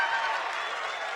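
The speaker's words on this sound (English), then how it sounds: "You're supposed to really applaud over that one." Graduation audience at a Cal Poly spring commencement breaking into applause, a brief, dense burst of many hands clapping heard at a moderate distance.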